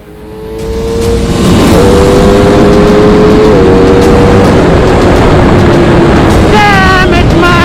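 A 2020 Aprilia RSV4 RR motorcycle's engine revs hard and holds a loud, sustained roar with rising pitch, its exhaust crackling and popping toward the end.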